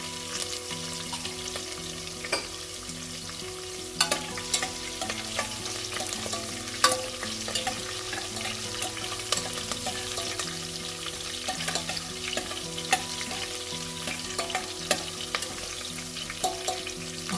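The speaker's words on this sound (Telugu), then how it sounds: "జీలకర్ర ఆవాలు వేసుకున్నాక" Cumin and mustard seeds sizzle in hot oil over low flame, a constant crackling hiss dotted with small pops and occasional stirring knocks, close, with a low tonal hum beneath and no speech.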